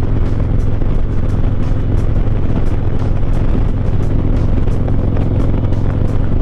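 A Harley-Davidson Street Glide cruises across the Chesapeake Bay Bridge-Tunnel, its engine a steady, loud rumble mixed with constant wind roar and no break throughout.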